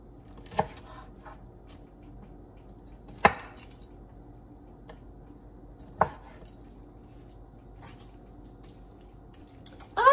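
Knife chopping through octopus on a cutting board while preparing seafood for a pie, a few sharp, separate thuds spaced several seconds apart over quiet kitchen room tone.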